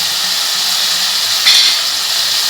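Tomatoes sautéing in a pan give a loud, steady, close hiss of frying, with one brief brighter spike midway.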